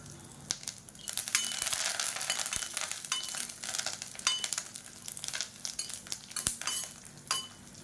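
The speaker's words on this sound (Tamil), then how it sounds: "இது கூடவே ஒரு கொத்து கருவேப்பிலையில் இந்த எண்ணெயில் சேர்த்துக்கலாம்." Garlic cloves and curry leaves spit and crackle in hot oil for a spicy chutney, an irregular close sizzle broken by sharp pops and a few metallic spoon-against-pan clinks, no talking.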